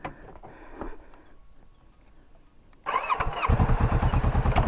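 A Kawasaki Vulcan 650 motorcycle engine, idling quietly at first, then rising abruptly into a loud, rapid, pulsing throb as the rider eases off the clutch and the bike pulls away, close by with no talk.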